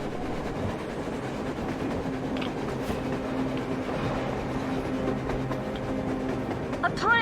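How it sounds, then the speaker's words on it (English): A train rumbling across the surface in the post-apocalyptic game Metro Exodus, a steady loud mechanical drone with low clanking held throughout, under a wash of wind and ambient noise. "A train! A damn train on the surface!"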